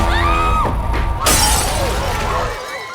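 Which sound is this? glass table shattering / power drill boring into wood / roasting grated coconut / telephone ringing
glass table shattering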